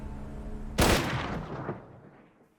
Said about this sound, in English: a single bang created an eerie silence